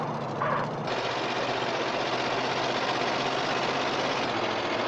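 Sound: truck engine running in the video game GTA San Andreas

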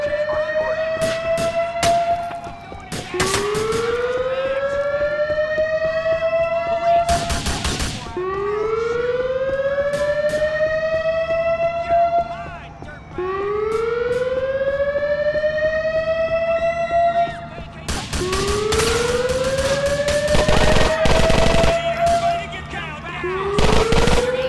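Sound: gunfire in the video game GTA 4 prison break shootout

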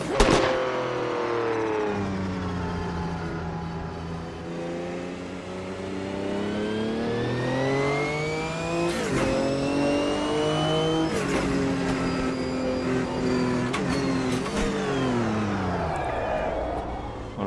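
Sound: GTO race car engine revving in video game Automobilista 2

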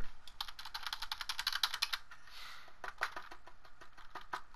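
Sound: computer keyboard typing

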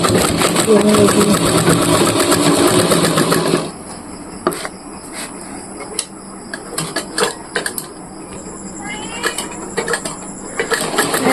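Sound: sewing machine stitching a cement sack bag

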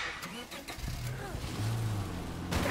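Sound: car driving in video game State of Decay 2

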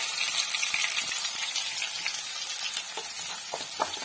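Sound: onions sautéing in oil

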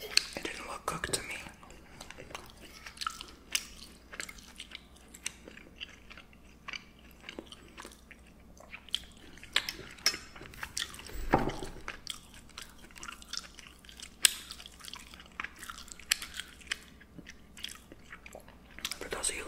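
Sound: chewing and smacking while eating sirloin steak

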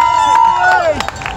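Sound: marathon crowd cheering near the Brandenburg Gate

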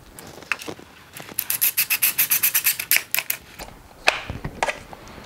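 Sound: tightening screws to mount charger on wall

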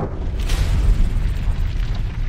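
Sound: explosion on Venus

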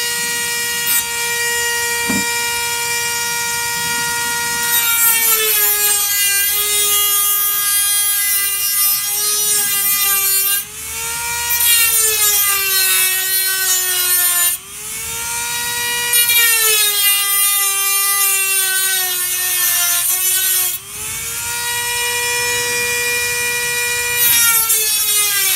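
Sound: Dremel cutting an aluminium window frame

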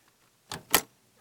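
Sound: sound-effect door opening and closing

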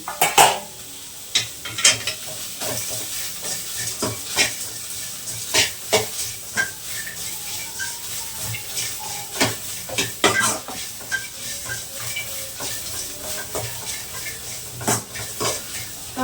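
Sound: cumin and pepper frying and being stirred in a pan

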